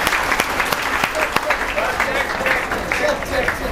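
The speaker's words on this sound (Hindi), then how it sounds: "अरे ताली बजा दो भाई तुम लोग यार" Audience applause for top-ranked students at a coaching institute's results ceremony, a dense patter of many hands clapping steadily throughout, with people talking over it.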